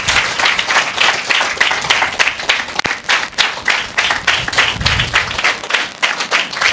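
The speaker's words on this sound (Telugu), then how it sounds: "give claps to the lord Jesus Christ" A church congregation at a Sunday sermon claps loudly and fast, a dense rhythmic flurry of many hands that stays close and steady throughout.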